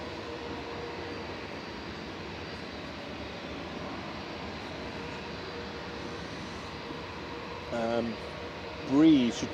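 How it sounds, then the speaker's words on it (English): A steady, continuous roar from an airliner lined up for takeoff on runway 23 left at Manchester Airport, bound for Pula. It holds even throughout, with short voice-like bursts standing out near the end. "Lined up and ready to go on 23 left is 2E to Pula with flight 2686."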